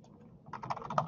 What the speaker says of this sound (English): And you can start typing your options.